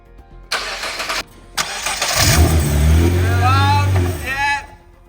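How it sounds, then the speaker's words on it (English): A Nissan GTR under repair for an oil leak cranks with two short bursts, then fires up into a loud, close idle that holds for a few seconds before dropping away. "I was going to get back in the car and start it whilst the guys were underneath looking for the leak"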